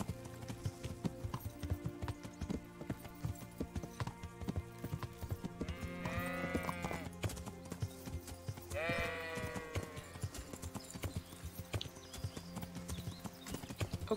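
Horse hooves clip-clop steadily at a walking pace on a road in the medieval role-playing game Kingdom Come: Deliverance, a continuous rhythmic patter with faint sheep-like bleats and whinny calls rising briefly in the middle.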